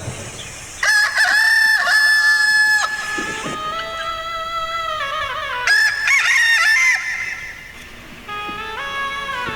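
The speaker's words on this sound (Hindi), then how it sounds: "जैसे मुर्गे की आवाज सुनी" A rooster crows in a dramatized devotional retelling, two long cock-a-doodle-doo calls rising and falling in turn, close and loud, with clucking between them and no one speaking.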